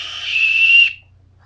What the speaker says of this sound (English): It also comes as a whistle.